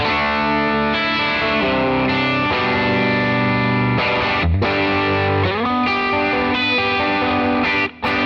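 Electric guitar chords ring through the FM9's OD1 overdrive, a sustained distorted tone with changing chords one after another, with a brief cutout near the end and no talking.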